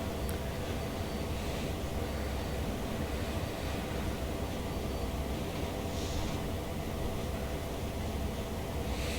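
A pair of helper locomotives idles and runs steadily in Train Sim World on the Sand Patch Grade, a constant low diesel drone with broad hiss that holds evenly throughout with no voices.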